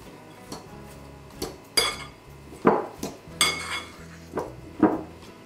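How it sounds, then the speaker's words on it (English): Cauliflower waffle batter with salt is stirred in a bowl, a utensil clinking and scraping against the dish in a series of close, uneven knocks roughly every second. "I'm gonna just mix this all up real well."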